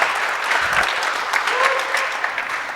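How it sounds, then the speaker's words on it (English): Audience applause at the end of a live shapes and smoke rings science performance at a festival, steady close clapping filling the whole stretch with a faint voice or tone briefly beneath. "We'll do a round of applause."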